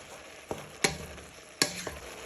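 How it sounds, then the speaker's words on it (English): Bacon and mince are stirred as they fry in a pan: a soft, low sizzle runs underneath while a few sharp spoon scrapes and clacks stand out, with no voices. "But first you just want to keep stirring in your bacon with your mince."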